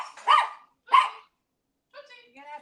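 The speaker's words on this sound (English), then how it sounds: "he's barking at squirrels" A dog barking at squirrels gives two sharp, loud barks close by, then a pause before a softer, higher, drawn-out vocal sound.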